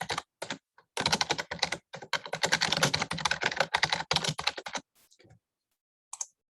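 Typing a name on a computer keyboard, heard as rapid, close clattering keystrokes in dense bursts with short pauses, then a few isolated clicks near the end.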